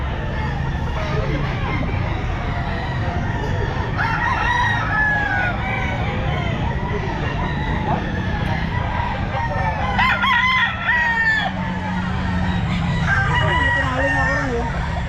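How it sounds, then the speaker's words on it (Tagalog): Roosters crowing repeatedly at a busy pet market, several birds calling near and farther off over clucking fowl and a background of crowd chatter and talk. "Quality po yung mga manok mo, Pusapon."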